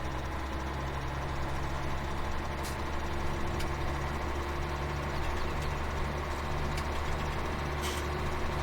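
A truck engine in Farming Simulator 17 drones steadily throughout, a constant low idle-like hum with faint intermittent clicks and ticks, no talk.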